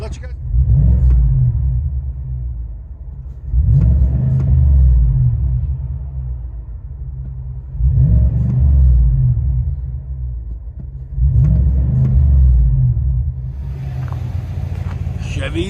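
A 2021 Chevy Silverado Z71 RST with the 6.2-liter V8 and dual exhaust with a Vibrant resonator revs four times in a row, each deep, loud rumble rising and falling back to a steady idle.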